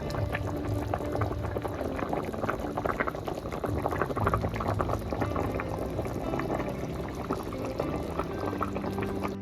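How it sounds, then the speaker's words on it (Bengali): Curry gravy with duck eggs, cauliflower and peas boils in a pot, bubbling and gurgling steadily at close range for the whole stretch without any talk. "ঝোলটা ফুটে উঠলে তারপর আবার ফিরে আস"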